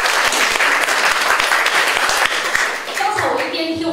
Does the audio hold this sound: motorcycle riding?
no